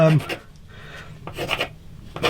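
Sandpaper is rubbed over the radius of a guitar fretboard in short, close rasping strokes, with pauses between passes.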